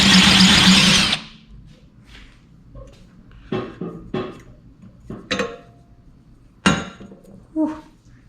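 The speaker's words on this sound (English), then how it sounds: "you'll take your hole saw and the hole will guide it, the drill bit" A hole saw on a drill cutting through metal tubing for DIY rock sliders on a Blazer: a loud grinding burst at first, then the drill stops, followed by scattered sharp clanks and knocks of the metal being handled.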